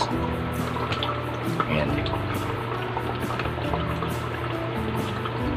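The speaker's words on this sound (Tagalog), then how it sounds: "may pagka may tubig na lumabas, ibig sabihin bukas na po ang valve na sa taas" Water flows steadily out of a homemade aerator built from recycled materials once its valve opens, a continuous rushing trickle with a low hum underneath, while a person speaks briefly over it.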